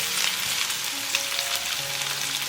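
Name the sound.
stir-frying pork ribs with salt and pepper powder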